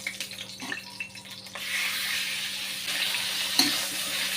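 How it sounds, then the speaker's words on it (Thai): Steady sizzling hiss of sliced pork stir-frying in a hot pan, starting halfway through and continuing loudly, with a faint clink near the end. "ผมเอาเนื้อหมูสไลด์ลงไปผัดก่อนเนาะ"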